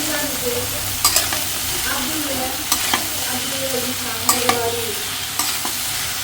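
A spoon stirs chopped bottle gourd in a pan of hot oil with green chilies and red chili, steady sizzling underneath with occasional sharp scraping clinks of the spoon against the pan, close and fairly loud.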